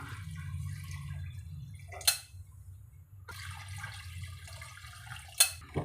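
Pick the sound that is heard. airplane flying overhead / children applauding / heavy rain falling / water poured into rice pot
water poured into rice pot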